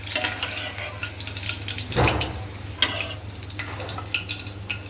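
Tindora and green chilies frying in a pan, a steady close sizzle with a few brief stirring scrapes and clatters breaking through.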